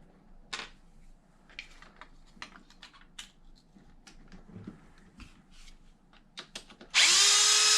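Sparse clicks and taps of handling on an Arrma Outcast 8S RC car give way to a loud, close power drill that whirs continuously at the end while removing the bumper.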